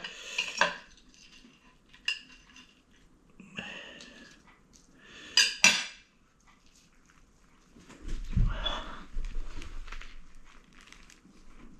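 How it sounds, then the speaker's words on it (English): A knife works through a piece of cooked snapper dressed with mayonnaise and tomato sauce, giving scattered scraping and clinking strokes on a plate, with a dog whimpering nearby and a low rumble late on. "I'm going to cut this bit of snapper"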